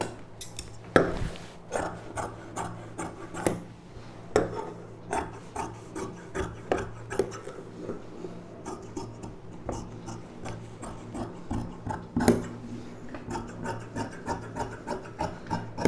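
Scissors cut through saree fabric to shape a frock, producing a steady series of soft crunching snips and rasping rubs in a quiet room, with occasional sharper clicks from the blades.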